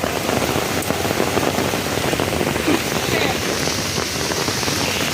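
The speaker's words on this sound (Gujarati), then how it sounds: "જબરજસ્ત વરસાદ ચાલુ થઈ ગયો છે." Heavy rain pours down steadily and loudly, a dense continuous hiss of drops on surfaces close by, with faint voices now and then beneath the downpour.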